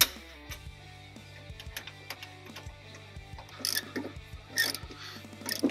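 Ratcheting tool tightening fasteners while mounting a circuit breaker for an electric fuel pump setup, a run of rapid clicking ratchet strokes with some sharper metallic knocks and scrapes toward the end, close and moderately loud.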